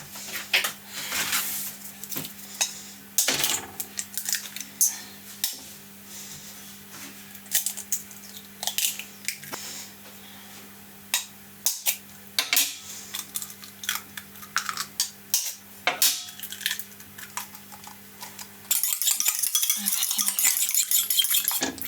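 Four eggs are cracked into a bowl for Creme Egg brownies: a run of sharp taps, clicks and clinks against the bowl, sparse and irregular, close and fairly quiet, ending in a steadier hiss of mixing or pouring.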